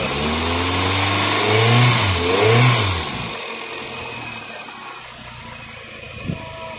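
The engine of a Kia Picanto, during an air-conditioning hose replacement and freon refill, revs up twice in strong rising swells, then drops back to a steady idle hum with a small knock near the end; no talking.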